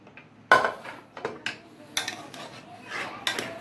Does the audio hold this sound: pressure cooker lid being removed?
yes